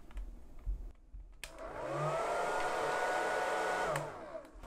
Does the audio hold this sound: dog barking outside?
no